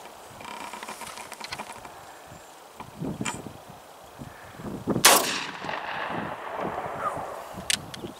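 An 1884 Trapdoor rifle chambered in 45-70 fires once outdoors, giving a single sharp, loud report about two-thirds of the way through. Before the shot there is faint rustling, small clicks and distant ambient noise.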